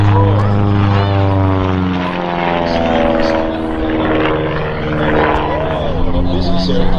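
Long-EZ piston-engine light airplane performing aerobatics, including a four-point hesitation roll, at an air show; a steady, loud propeller drone with a fluctuating pitch persists throughout while an announcer talks over it.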